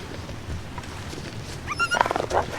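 A wolf growls and snarls in a survival video game, a short burst of rising, rough vocal sounds near the end after a stretch of quiet ambient noise.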